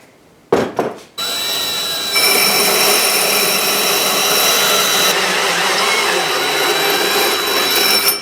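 A power drill bores into a block for building a forge, starting with a few short bursts, then running steadily with a sustained, close whirring and grinding that persists to the end.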